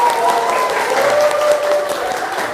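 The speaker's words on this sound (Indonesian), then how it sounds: "Tepuk tangan untuk kelas ini." A school classroom of students applauds together, a dense even clapping that holds steadily for a couple of seconds, fairly loud and close, with a faint voice tone running underneath.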